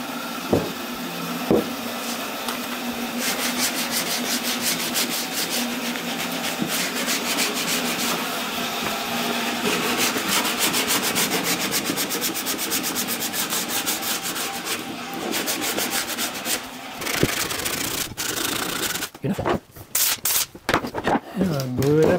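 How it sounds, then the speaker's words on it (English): Wooden cutting board edges hand-sanded with steady, rhythmic back-and-forth rasping strokes, close and fairly loud, continuing for most of the stretch before breaking into a few scattered scrapes and knocks near the end. "Now just do a little hand sanding on these edges."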